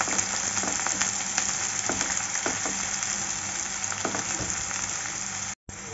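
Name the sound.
onions being stirred and lightly fried in a pan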